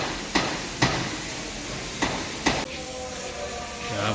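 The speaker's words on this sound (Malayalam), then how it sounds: "ക്യാബിൻ്റെ ഇപ്പുറത്തെ സൈഡ് സെക്കൻഡ് കോട്ട് അടിക്കുകയാണ്." Spray gun laying a second coat of paint on the cabin of a Bharatbenz 12-wheel truck, a steady close airy hiss broken by four short sharp knocks, with the spray tone shifting near the end.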